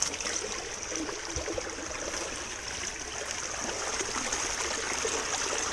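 Steady rushing and trickling of river water flowing through a small gold-prospecting sluice set in a stream, a continuous close wash with no voices.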